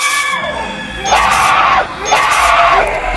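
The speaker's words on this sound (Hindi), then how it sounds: "रुक्मणी की चीखें पूरी इमारत में गूंज रही थी," A horror-story effect of a woman screaming, echoing through a building, comes in two loud, drawn-out shrieks with a short break between them. The screams ring with a reverberant, crowd-like wash.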